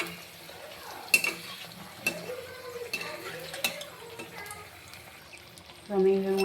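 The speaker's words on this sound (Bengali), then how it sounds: "তো আমি এইভাবে উল্টে পাল্টে লাল লাল করে নিমকিগুলিকে ভেজে নিব" Homemade nimki snacks fry in hot oil on a low flame and get turned over, with a steady soft sizzle and occasional utensil clinks against the pan, under a faint background voice.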